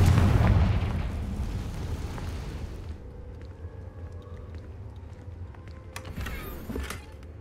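A Confringo fire spell in Hogwarts Legacy lands with a deep booming explosion at the start, its rumble fading over a few seconds into quieter game ambience with faint clicks.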